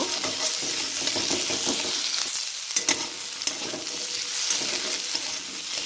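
Chopped sweet potatoes fry in hot oil while being stirred for a tamarind-tomato sour dish, a continuous sizzle broken by clattering spoon scrapes and a few sharp knocks.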